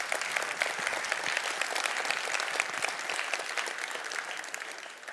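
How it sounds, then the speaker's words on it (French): An audience at a conference applauds a magic trick, a dense, steady burst of clapping that carries on strongly and tapers slightly near the end. "Merci pour vos applaudissements."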